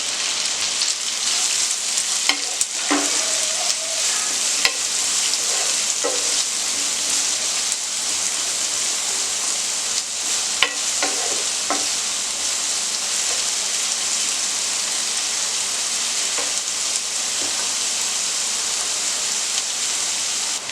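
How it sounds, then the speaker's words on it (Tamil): Chopped onions frying in oil in a pan for gobi manchurian, a steady close hiss and sizzle throughout with a few faint clinks, no talking. "ஒரு 2 வெங்காயம் வந்து நல்லா சின்னதாக சாப் பண்ணி வச்சுருக்கு. அதையும் வந்து நம்ம நல்லா ஃப்ரை பண்ணிக்கலாம்."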